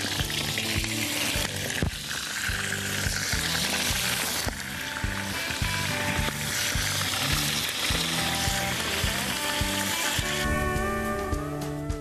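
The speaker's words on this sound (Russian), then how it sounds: "Пока это все потихонько жарится" Hare paprikash sizzles and fries in oil inside a cauldron, a steady dense crackle with continuous hiss and stirring clatter throughout, close and fairly loud with no talking.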